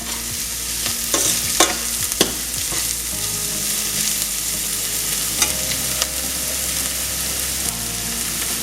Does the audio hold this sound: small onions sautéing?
yes